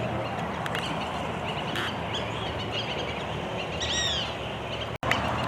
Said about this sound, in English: Got some cute little ducks